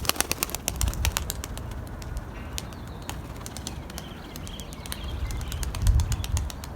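Turkish Takla pigeons fluttering, with repeated sharp wing claps and flapping bursts over steady outdoor background noise and a few soft coos, moderately close.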